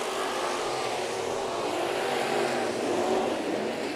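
Race cars roaring side by side in a heat race on the Santa Maria dirt track, a dense, steady engine drone heard from a distance with no break.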